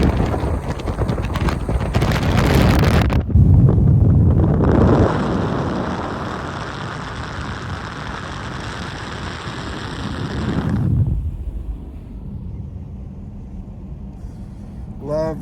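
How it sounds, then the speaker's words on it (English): Loose headliner fabric flaps inside a moving 1995 Ford Taurus with its windows down, a loud rushing buffet of wind that surges, then falls away as the car slows. "Love the flapping headliner."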